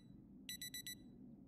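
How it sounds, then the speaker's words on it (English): A car alarm in the zombie survival game Project Zomboid, a quick series of four bright electronic beeps followed by a brief gap and a fifth beep starting, fairly faint over a low background hum. "Just turn off the alarm quickly."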